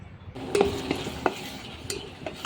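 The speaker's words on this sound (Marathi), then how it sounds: "मी सर्व वाटण तेलामध्ये घालून घेतले व मसाला टाकून चांगले परतून घेतले" Ground spice paste and masala being stirred and fried in oil in a pan for misal, with quiet sizzling under intermittent metallic scrapes and taps of a spoon against the pan.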